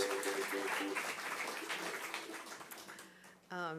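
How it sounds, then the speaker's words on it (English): An audience at the Boones Creek Opry, a regional country music show, applauds the sponsors with a dense wash of clapping that tapers off, then a voice begins over an amplified room. "Let's give all of our sponsors a big round of applause."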